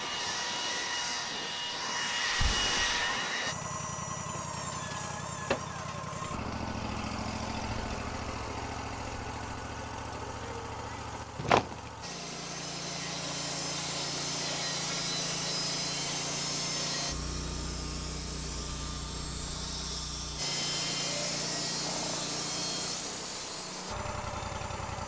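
A power saw whines steadily while cutting wood scraps into stickers for stacking lumber to dry, its loud continuous drone changing pitch from cut to cut, with one sharp knock partway through.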